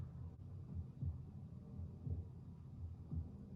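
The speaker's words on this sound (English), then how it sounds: "That sounded like a heartbeat." A faint, low heartbeat-like thump in a song pulses steadily, about one double beat per second, soft and muffled under a quiet hum.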